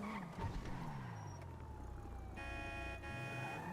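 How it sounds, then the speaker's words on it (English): Police siren from the GTA 5 video game, a rising and falling electronic wail sounding at a steady moderate distance over faint traffic and engine noise. "Police car."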